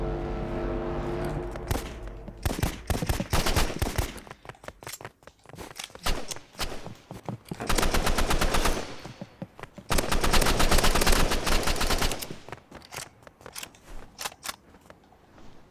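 Rapid gunfire from the Roblox shooter game Rivals, with loud bursts of automatic shots and single cracks coming in dense volleys and short gaps across the whole clip, with no talking.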